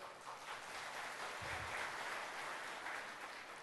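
Steady studio audience applause at a televised Tamil debate show, a dense wash of clapping heard from a distance, continuing evenly throughout.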